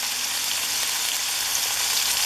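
Ingredients for a Jaffna-style crab curry fry in a little oil under a lid, making a dense, even hiss of sizzling steam that holds steady for a couple of seconds with no talking.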